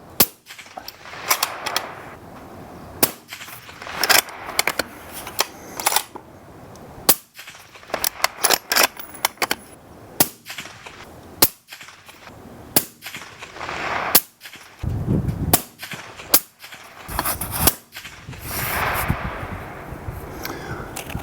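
Rifle shots from a CADEX Kraken and a Barrett MRAD at an outdoor range ring out as a series of sharp, loud cracks, fired singly at irregular intervals with quiet gaps and faint handling noise between them.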